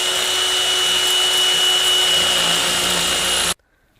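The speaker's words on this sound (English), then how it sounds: "Let's drill this back out." A power drill bores out a broken exhaust bolt on a 1976 Honda Elsinore MR175 cylinder. The drill whines loud and close in one continuous run of about three and a half seconds, then cuts off abruptly into quiet.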